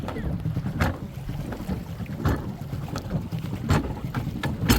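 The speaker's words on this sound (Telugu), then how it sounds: "ఈ బోట్లో స్పెషాలిటీ ఏంటంటే నీ పడవ నువ్వే పెడల్ చేసుకోవచ్చు నీ బోట్ని" A pedal boat moves across water in Odisha with steady wind rumble and splashing, punctuated by periodic knocks and sloshes close to the microphone.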